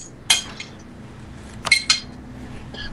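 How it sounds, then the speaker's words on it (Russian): A spoon knocks against dishware in a few sharp metallic clinks, one near the start and a quick pair later, over quiet background hum. "Ну кто стучит ложкой?"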